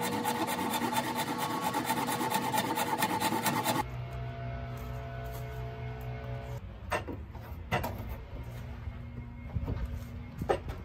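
Wooden self bow handle shaped by hand, with steady close rasping and filing strokes in a fast rhythm, then slower scraping and a few sharp knocks from the tool on the wood.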